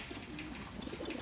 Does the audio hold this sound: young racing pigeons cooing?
yes